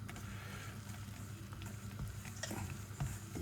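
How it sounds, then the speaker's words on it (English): Flour being slowly mixed into two eggs for a beef-topside batter, a steady close scraping and stirring texture that runs continuously, with a few sharper knocks near the end and no talk. "I'm just going to slowly mix the flour in"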